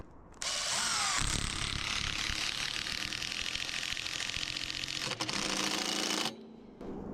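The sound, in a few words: power drill driving screws fastening metal to wood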